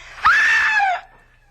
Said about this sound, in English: Please, if you've ever done anything for me in your life, scream.